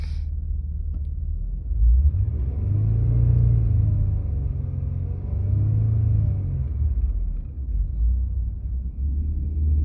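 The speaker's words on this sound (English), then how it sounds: "See how it kind of just like kind of revved up a little bit again before it went all the way back down?" A 2005 Acura TL with a clicking-noise complaint idles with a close, steady low rumble, then rises in two brief revs before settling back to idle. No one speaks.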